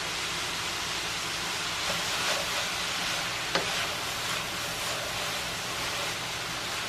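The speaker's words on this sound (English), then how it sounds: "Give that a good stir." Sausage, shrimp and cabbage with garlic and onion sizzle in a skillet, a continuous broad hiss with faint scraping as the mixture is stirred, and one brief sharp clink partway through.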